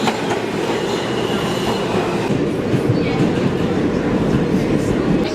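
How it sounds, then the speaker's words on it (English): A New York subway train rumbles and clatters through the system, loud and close, with rhythmic wheel clicks and brief metallic squeals over a continuous low roar, with faint voices in the background. "descending into the dankness of the New York subway system"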